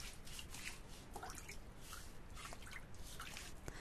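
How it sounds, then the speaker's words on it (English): Soft, continuous water sounds with faint drips in a quiet house in The Sims 4, a low and steady trickle that carries on without any voices. "you can just hear the water and it's quite soothing"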